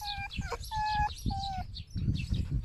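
Birds near foxes give repeated short clucking, chirping calls close by, several in quick succession over faint background rustle.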